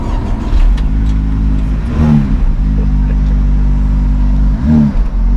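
A 2023 Honda Civic Type R engine starts up and revs, loud and close, with a couple of sharp throttle blips rising over a steady idle.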